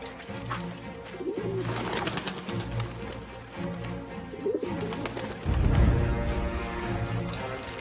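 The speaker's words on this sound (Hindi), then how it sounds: "अपने सारे पंछी संदेश लेके एगेसफोर्ड भेज दो।" Messenger birds, pigeons or doves, coo steadily in a roost over a continuous murky background, with a louder low rumble swelling near the end.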